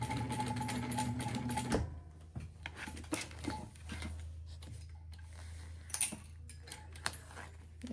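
A sewing machine runs a steady basting stitch along fabric edges for under two seconds, then stops, followed by quiet handling clicks and rustles of fabric and thread.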